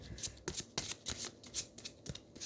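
Tarot cards being shuffled in quick riffling bursts, crisp and close, with short pauses between passes and no talking.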